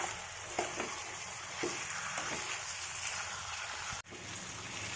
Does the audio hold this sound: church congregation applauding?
no